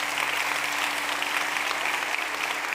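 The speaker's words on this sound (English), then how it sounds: "Come on, give the Lord a good hand clap of praise today." A church congregation clapping hands in praise during worship, a dense, steady roar of many hands held evenly for a few seconds, fairly loud and with no speech over it.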